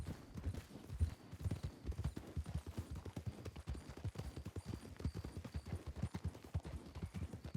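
Horse hooves canter in steady, rapid clip-clop rhythm throughout in the video game Red Dead (WildRP), close and continuous, with a faint voice underneath.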